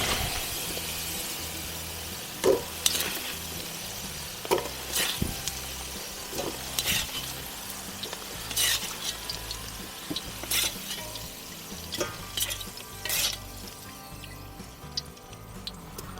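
Chicken breast sizzles and fries in a pan or kazan while a utensil scrapes and clatters intermittently, stirring with irregular knocks.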